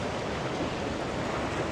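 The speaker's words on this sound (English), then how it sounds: "watching the waves rolling." Ocean waves rolling onto the beach at Boynton Beach, Florida, a steady, dense wash of surf noise with some wind rumble, continuous and fairly loud with no voices.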